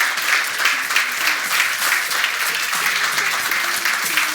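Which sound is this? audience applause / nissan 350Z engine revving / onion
audience applause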